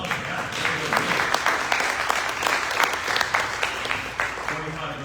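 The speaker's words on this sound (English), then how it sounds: "How about a round of applause for that?" Applause at a Rotary club year-end luncheon for new members: a dense, sustained burst of many hands clapping, fairly loud and close, with crowd murmur and a few voices mixed in.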